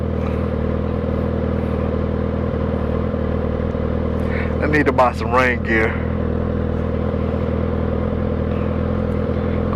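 A motorcycle ridden as a daily bike through city traffic, its engine a steady low drone throughout, with someone talking briefly over it midway.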